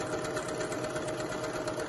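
Domestic sewing machine stitching a pyjama waistband closed, a steady, continuous mid-pitched motor whir with a fast even stitching rhythm, close and alone throughout.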